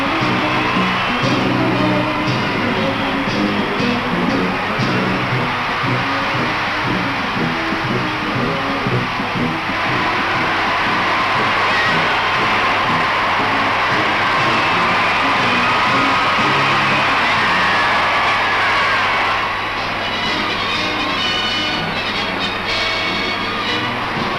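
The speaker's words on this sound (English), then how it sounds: "the cheering swells to a roar" A huge crowd lining a ceremonial procession route cheers and roars continuously, a dense, sustained wall of massed voices without letup.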